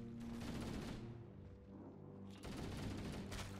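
Gunfire in Halo: Combat Evolved, a continuous rapid rattle of automatic shots with dense booming bursts, quieter in the middle and then louder again toward the end.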